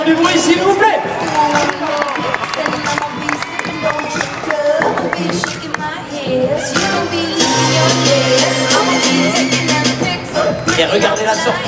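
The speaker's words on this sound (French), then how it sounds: "Vincent Hermans qui vous demande de l'applaudir et de faire du bruit s'il vous plaît." An arena crowd at an X-Trial world championship round in Strasbourg's Zénith claps and cheers steadily under an amplified announcer's voice, swelling louder toward the end.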